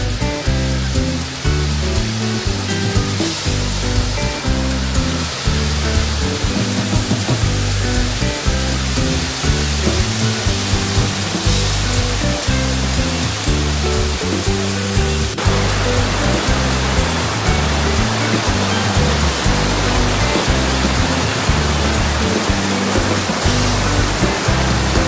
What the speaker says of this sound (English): this little waterfall here. Beautiful.